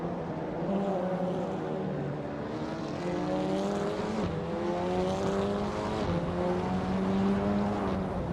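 Race cars, including an Alfa Romeo 156 GTA, drive on a circuit with steady, droning engine tones. Engines rise and shift in pitch as the cars pass, heard continuously from a moderate distance with no talk.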